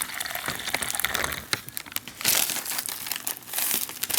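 Water poured into a crinkly plastic MRE hot beverage bag holding coffee, creamer and sugar, the liquid gushing over constant crackling and crinkling of the plastic, close up, with no talking.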